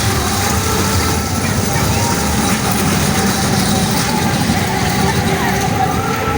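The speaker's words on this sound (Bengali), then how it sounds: "এই যে ট্রেনটা আসছে, দেখুন।" A fair ride train rolls through the grounds of the Brahma Datta Dham annual festival in Baruipara, Hooghly, giving a steady rumbling drone that runs unbroken beneath dense crowd noise and fairground bustle.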